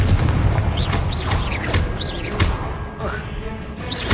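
Booming fire-spell blasts of Confringo in Hogwarts Legacy, a series of heavy, rumbling explosions in quick succession, loud and close, with occasional whooshing magical tones layered between the impacts.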